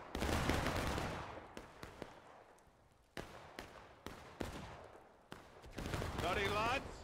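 Musket volley fire in War of Rights, a Civil War battle game with infantry lines: a loud ragged volley opens, then single sharp shots crack at irregular intervals, some nearer and some farther, with voices shouting.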